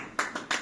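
Three sharp handclaps sound close by in an uneven rhythm during a group movement session, each one a short crisp slap with no voices.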